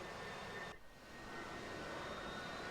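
A Harrier jet rolls down a runway for takeoff in a naval flight simulation, its engine a steady, distant, fairly faint roar with a brief dip partway through.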